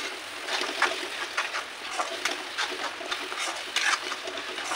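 Salted tomato frying in a pan for a Maharashtrian vegetable dish, a continuous close sizzle with irregular stirring scrapes and clinks and no voices.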